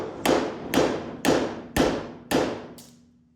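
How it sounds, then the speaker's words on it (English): Five loud, evenly spaced hammer blows on a bent steel hinge of a dump trailer's rear gate, each metallic strike ringing and decaying before the next, followed by a lighter sixth tap. "This hinge does not look all that straight, so I'm going to take and pound that back."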